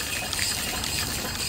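An antique Worthington steam pump moving water: a faint, steady gush and trickle of flowing liquid, brief and continuous, with no voices.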